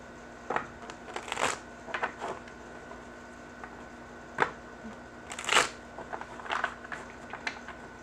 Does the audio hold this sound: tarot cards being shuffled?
yes